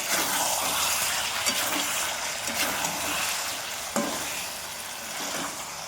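Meat sizzles and fries in its own released oil in a pan, a continuous close hiss with occasional scraping stirs and soft clicks, no voices.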